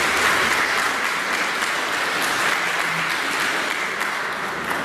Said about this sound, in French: On peut applaudir ces personnes-là.